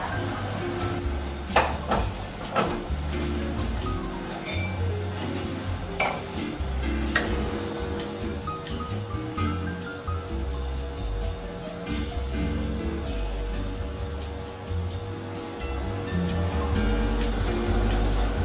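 An espresso machine pulls a single shot, its steady pump hum running beneath clinks of cups and metal utensils and a few sharp knocks, all close by, with no talk heard.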